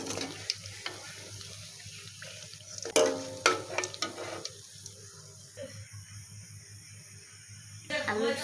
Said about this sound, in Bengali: আমি এক খোলা ভাইজা দিয়েছি আর এক খোলা দিতেছি